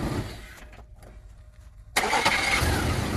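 The 4.3 V6 in a Chevy S-10 pickup cranks with a brief hesitation on its new starter, falls quiet for a moment, then catches and settles into a loud, steady idle close by.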